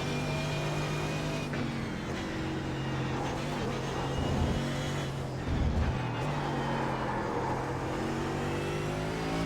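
A race car engine drones and revs in the iRacing sim, with pitch drops and surges as the driver shifts gears on the paddle shifters. The sound is steady and close, and no one speaks.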